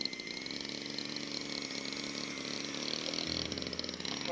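Small engine on a model Taylorcraft airplane idling steadily, a dense continuous buzzing drone close by, holding even for a few seconds with a slight shift near the end.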